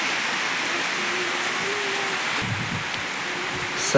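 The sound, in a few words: rain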